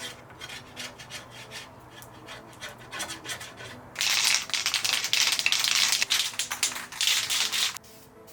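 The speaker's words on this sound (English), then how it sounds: "I'm gonna go get a scraper and start rubbing this crap away." A scraper rasps grime off the engine bay of an Acura TSX, steady rubbing strokes close by, growing louder and harsher midway before stopping near the end.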